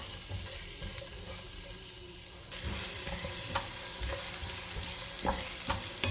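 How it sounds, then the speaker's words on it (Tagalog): Oil sizzles quietly in a kawali pan for sautéing garlic and onion, a soft steady frying hiss that grows a little louder partway through, with occasional light clicks and stirring. "So nagpainit na ako ng mantika dito sa kawali. Kunting mantika lang, panggisa lang ng bawang at sibuyas."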